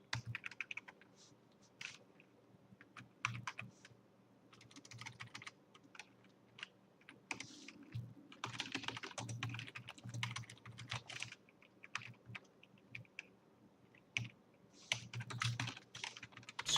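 Fast, uneven typing on a computer keyboard while filling in a home inventory, with bursts of light clicking keystrokes and short pauses, close and fairly quiet, no voices.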